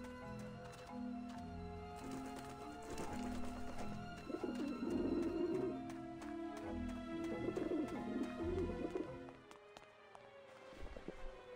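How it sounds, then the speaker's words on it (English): Pigeons coo in the video game Grim Fandango, soft repeated warbling calls rising over a steady layer of game music and ambience, with a few muffled clops. Nobody speaks. "The pigeons obviously like this dish vent."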